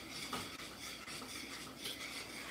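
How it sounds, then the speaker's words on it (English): A utensil scrapes and rubs in a pan as thickening ramen sauce is stirred, a faint, close, continuous swishing with soft rhythmic strokes and no voices. "I am going just to stir it up"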